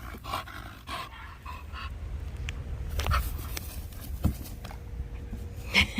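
A rescue puppy pants and snorts close by in quick breathy bursts, with a few sharper snorts and sniffs scattered through, and no talking.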